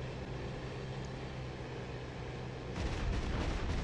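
Cannon and machine-gun fire from an Fw 190D fighter in the DCS World flight simulator: a steady engine drone, then from about three seconds a burst of rapid, rumbling gunfire that grows louder and heavier.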